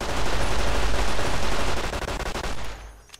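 Rapid gunfire from a modded World War II–era gun in Fallout: New Vegas, a dense loud burst of automatic shots that runs continuously, then breaks into a few separate shots before tailing off, with no talking.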